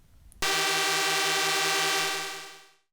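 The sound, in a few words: Legislative Council division bell buzzer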